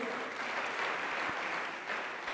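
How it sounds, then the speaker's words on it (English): At the Kalasha film and TV awards in Kenya, an audience gives the Cabinet Secretary a brief, steady round of applause, a dense wash of clapping at moderate level. "Let's give him another round of applause."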